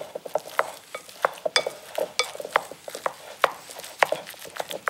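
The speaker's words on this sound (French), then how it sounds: "Il ne reste plus qu'à mélanger." Spoon stirring chopped onions with ketchup and mustard in a bowl, a close series of soft wet scrapes and clicks in an irregular rhythm, quiet and without any talking.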